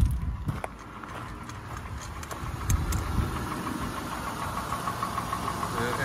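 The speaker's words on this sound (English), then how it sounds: "engine runs real smooth and quiet" A Honda Odyssey EX with 103k miles idles under the open hood, a steady low engine hum with a faint ticking texture. It stays even and moderately close, with a few brief clicks near the start.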